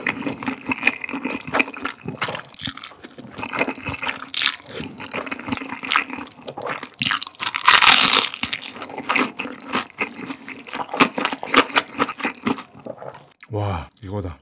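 Crunchy fried chicken and fried stuffed chili peppers bitten and chewed close to the mic in a mukbang, rapid irregular crackling crunches, loud and near, with a brief voice and some liquid sounds.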